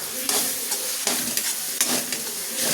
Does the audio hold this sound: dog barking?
no